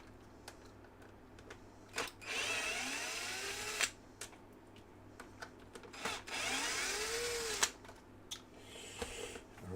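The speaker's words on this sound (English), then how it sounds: "So we're gonna release those two screws real quick." Small cordless driver backing out two screws on an air fryer, two separate whirring bursts about four seconds apart, fairly quiet, with clicks and handling noises between them.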